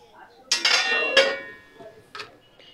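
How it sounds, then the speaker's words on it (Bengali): A metal lid set onto a cooking pot of rice and lentils in a home kitchen, giving a few close, bright clanks and a ringing clatter, then a softer knock a moment later. "তো চলো এবারে একটু ঢাকা দিয়ে রাখি।"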